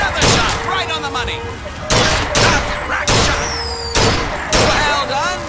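Repeated sharp gunshots ring out at a carnival shooting gallery in BioShock Infinite, five loud cracks spaced about a second apart, each with a short decaying tail, over faint background tones.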